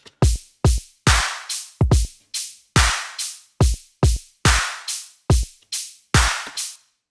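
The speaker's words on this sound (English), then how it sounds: "They're super basic rhythm drums" A steady, simple drum loop of punchy kicks and sharp claps repeats in an even rhythm, loud and close with nothing else playing.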